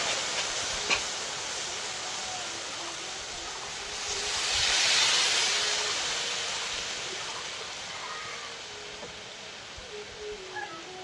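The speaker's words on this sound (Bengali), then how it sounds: "এবার জল দিয়ে দেবো, এগুলো মশলা দেওয়া জল।" Spiced water is poured into a hot pan of lightly fried vegetable curry, giving a broad hissing, steaming rush that swells midway and then slowly dies down.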